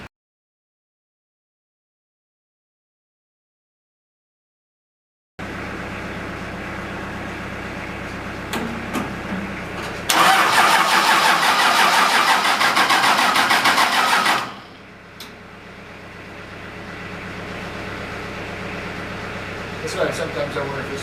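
A homemade tractor engine with its old exhaust stack starts up after a stretch of silence and runs steadily and loudly, swelling into a harsh roaring burst for a few seconds before easing back to a rough idle.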